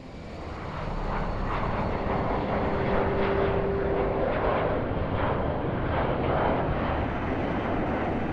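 Airplane in flight carrying about 150 people, a steady loud engine drone and rushing roar that holds throughout with no voices.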